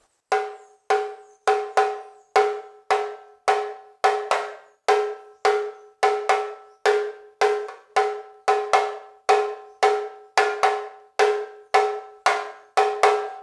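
The teleco-teco samba rhythm is played on a bright, bell-like percussion instrument: crisp, evenly paced ringing strikes in a repeating syncopated pattern, close and alone, with no talk.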